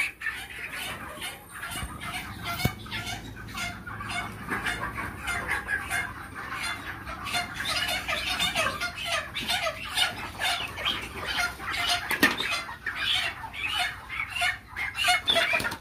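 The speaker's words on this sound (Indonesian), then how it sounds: "Tuh teman-teman lagi nangkap ayam." Chickens clucking and squawking continuously as a group is being caught at a poultry seller, busy and fairly close with occasional louder flurries of agitated calls, no talk.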